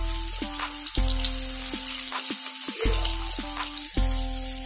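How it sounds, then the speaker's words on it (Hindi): Seer fish fries in a pan over an open flame, a dense crackling sizzle running throughout, broken by repeated tonal clinks and scrapes at irregular intervals. "थोड़ी देर से इसको फ्राई होने देना है एक साइड के लिए"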